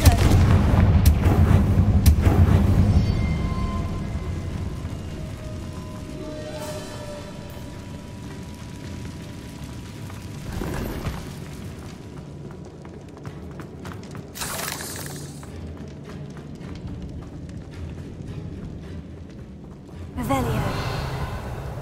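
A Confringo explosion spell in the Hogwarts Legacy video game, with a sharp burst followed by several booming blasts and crackling impacts spread across the scene amid game sounds and voices.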